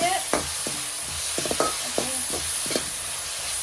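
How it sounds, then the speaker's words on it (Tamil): Shallots being sautéed in a pan for mutton chukka, a spatula scraping and stirring in short strokes over a steady sizzle, with no talking. "அது ஒரு பக்கம் இருக்க இதெல்லாம் வதக்கிட்டு"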